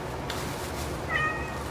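A rescue cat lets out one short, clear meow late in the moment, close by but not loud, over faint room noise.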